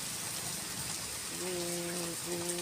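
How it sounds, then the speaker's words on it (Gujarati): Heavy unseasonal rain with wind pours down in Vijapur town, a dense steady hiss throughout, joined in the second half by a sustained horn-like tone from passing traffic. "આજે જે વરસાદ પડ્યો છે તેના દ્રશ્યમાન થાય છે।"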